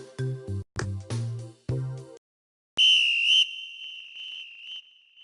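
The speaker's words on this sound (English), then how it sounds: "That underwater whistle is a sound that really travels." A whistle sounding underwater: a run of short tonal blasts separated by gaps, then a pause and a long, loud, steady high whistle that holds for a couple of seconds.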